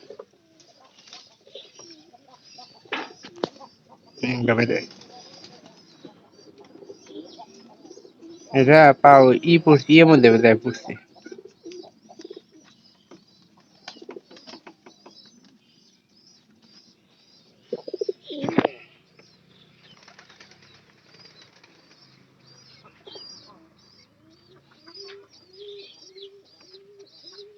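Native pigeons coo now and then in soft, low bursts, with chirps and rustles, while a voice speaks briefly.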